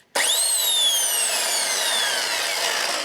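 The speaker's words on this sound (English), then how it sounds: "A 38-year-old drill with a new cord and possibly a new lease of life" A 38-year-old electric drill with a new cord switched on, spinning up with a rising whine that then settles into a steady, slowly falling motor hum, alone and close.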